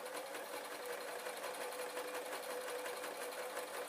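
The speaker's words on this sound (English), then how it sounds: "so I'm going to start sewing" A sewing machine stitches fabric ghost bunting folded over embroidery thread, running steadily and continuously at close range with a fast, even whir and no pauses or talk.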